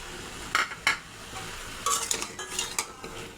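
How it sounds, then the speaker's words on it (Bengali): Chopped okra tipped into a pan of vegetables for a sweet pumpkin ghonto, a couple of sharp clatters followed by stirring scrapes over a soft sizzle, close by and without speech. "এখন আমি দিয়ে দেব কেটে রাখা ঢেঁড়স"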